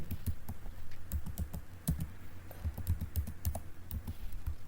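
Computer keyboard keys clatter in quick, uneven bursts and single taps as payroll data goes into Tally ERP 9, close and fairly loud, with nobody talking.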